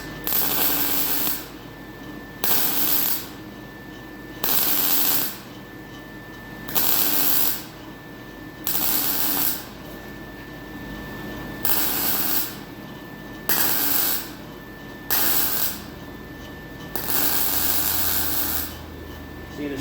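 Hot-side turbo piping being welded in a freezing shop, heard as a steady hiss and crackle in repeated bursts of about one to two seconds with short pauses between them, loud and close with no talking.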